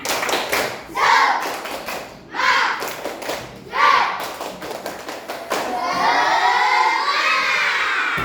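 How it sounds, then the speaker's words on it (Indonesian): A class of children performs a rhythmic clapping cheer in a classroom, with bursts of patterned claps punctuated by loud group shouts, ending in a sustained clamor of voices. "Sebelum masuk materi kita tepuk semangat dulu biar ada semangat kita masing-masing"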